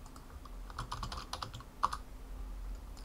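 Computer keyboard being typed on to enter a terminal command, quick irregular key clicks close by and fairly quiet, with one sharper keystroke midway.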